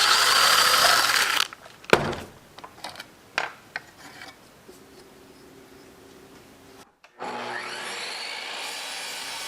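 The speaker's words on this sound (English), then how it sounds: "I cut it down on the table saw" A table saw cuts pine wood, opening with a loud whirring cut, then scattered knocks and scrapes of handling, a quieter lull with a faint hum, and the blade spinning up loudly again near the end.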